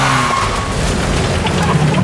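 A car skids with brake failure, tires squealing against a steady engine roar that stays loud and close throughout.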